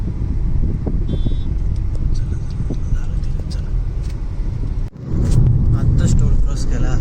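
A car cabin on a highway in Maharashtra as traffic clears, a loud steady road rumble and engine drone with a brief dip midway, while people talk inside.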